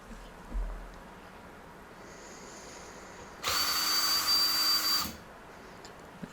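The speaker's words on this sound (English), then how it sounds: "get a drill or a screwdriver, remove all those" A drill backs out the screws holding a washing machine pump, with a quiet whir and then a loud close burst of about two seconds against a quiet room.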